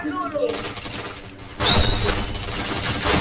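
Bursts of rapid gunfire in the video game Point Blank, with a dense volley in the second half and a voice speaking over the shooting.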